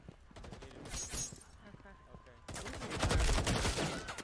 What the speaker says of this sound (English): A lot of gunfire and shots going out.